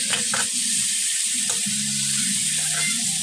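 Chopped tomato sizzling as it is sautéed in a pan with onion for a Filipino patola and shrimp dish, a steady broadband frying hiss with a few stirring scrapes, close and fairly loud.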